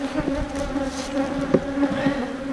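Honey bees buzz continuously around honeycomb, a close, steady droning hum with a few louder passes of individual insects near the microphone.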